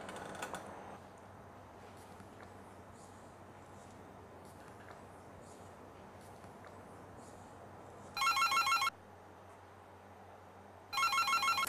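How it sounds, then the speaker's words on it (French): A telephone rings twice, in two short electronic bursts a few seconds apart, over a quiet room with faint clicks. "Ah, ce téléphone, il vous empêche de travailler."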